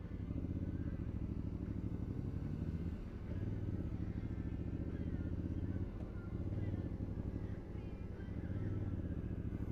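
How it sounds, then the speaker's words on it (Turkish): A motorcycle rides along with a continuous low engine drone and some clatter from a moving on-board microphone, steady and close throughout. "Oğlum çok kötü sürüyorsun motoru ya."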